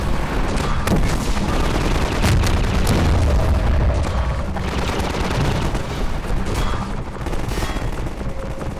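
Dense Half-Life 2 combat: rapid gunfire and booming blasts as missiles are shot down, a continuous loud barrage of cracks and explosions with no voices.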